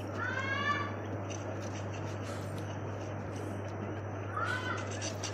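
Newborn kittens nursing from their mother cat give thin, high mewing squeaks, a short cluster at the start and another near the end, faint over a steady low hum in a quiet indoor space.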